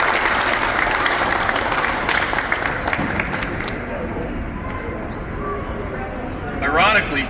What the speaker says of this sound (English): Let's give Brock a great round of applause.